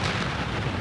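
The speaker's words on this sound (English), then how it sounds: "Some in roadside explosions like this." A roadside explosion in Iraq or Afghanistan registers as a loud, dense roar of blast noise filling the whole short moment, with no pause or talk.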